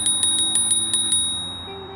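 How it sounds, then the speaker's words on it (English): A bell on a KBO Ranger e-bike rings seven quick, evenly spaced dings, bright and close, over a low steady hum, then the ringing fades away. "This thing is also equipped with an awesome looking bell."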